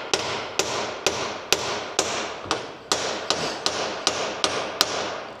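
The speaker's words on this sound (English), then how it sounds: "I'm gonna hit this with a hammer" A hammer strikes an engine knock sensor in a dozen sharp, evenly spaced metallic taps, close and clear with no talking.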